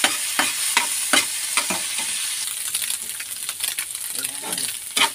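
A sardine omelette frying in a pan, with a steady sizzle broken by repeated clinks and scrapes of a utensil stirring and pressing the food.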